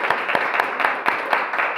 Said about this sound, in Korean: 하나님께 영광의 박수를 먼저 올려드리도록 하겠습니다